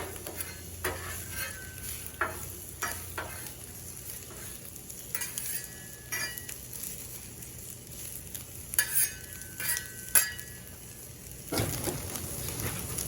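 Red pepper and half a yellow onion fry on a Blackstone griddle, a steady close sizzle broken by scraping spatula strokes and a louder burst of hissing near the end.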